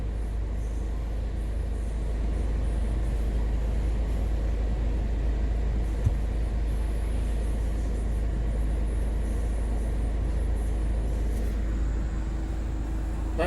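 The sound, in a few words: Hyundai Santa Fe wheels spinning off-road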